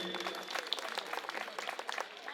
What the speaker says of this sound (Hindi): हमारे विधायक जी के लिए भी एक बार जोरदार तालियां बजा दीजिए